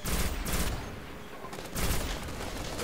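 Rapid bursts of weapon fire from a burst rifle in the game Destiny, two loud clusters of shots separated by a quieter gap, close and crisp with no talking.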